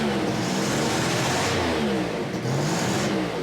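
A 1990 Toyota 4Runner engine runs loud and close, its pitch rising and falling as the throttle is blipped in a couple of quick revs.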